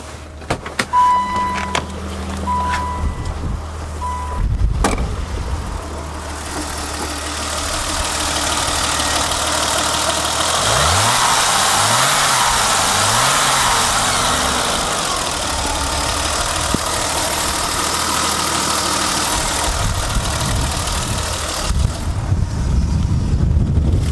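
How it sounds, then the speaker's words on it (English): A 1990 BMW 325iX engine idles steadily for about twenty seconds with the hood open, a low even rumble with a faint whirring hiss, after a few brief clicks and mechanical sounds. "Take a listen to the engine."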